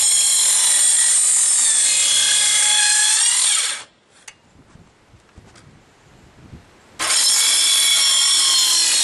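Wood cut with a power saw for a small jig on a workbench: a loud, close whining cut that stops for about three seconds of quiet handling noise, then starts again just as loud.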